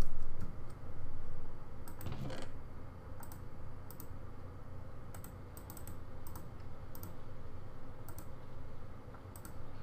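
Rapid clicks from a computer keyboard during a Tekkit Classic gaming session, with scattered quick keystroke bursts close over a low hum and a brief louder thump early on.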